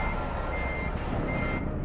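A heavy truck in American Truck Simulator backs up toward a trailer, its reversing alarm sounding as a steady, repeated electronic beep over a low engine rumble.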